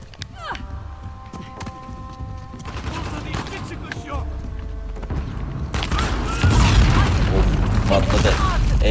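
An explosion in the video game Uncharted: The Lost Legacy erupts as a loud, broad roar amid ongoing gunfire-like bursts and game sounds, swelling and staying heavy toward the end.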